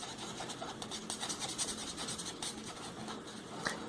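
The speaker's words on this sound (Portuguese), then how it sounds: "para dar um exemplo a vocês, eu vou colorir" A pencil or crayon colours in a drawn figure by hand, giving a soft, close, continuous scratching and rubbing with quick back-and-forth strokes, quiet and without speech.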